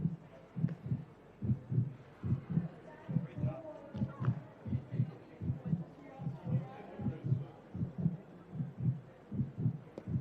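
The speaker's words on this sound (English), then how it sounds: "this heartbeat is quite intense" Heartbeat sound effect played during a World Pickleball League broadcast, a deep, steady lub-dub thumping pulse repeating in a regular rhythm, with commentators talking over it.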